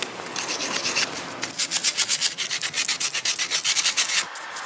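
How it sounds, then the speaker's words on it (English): Metal fence being sanded by hand with 80-grit sandpaper, close, loud rhythmic rasping strokes in a quick back-and-forth pattern, with no talking. "you need to get yourself some 80 grit sandpaper, that's medium grit, and start on all your flatter surfaces"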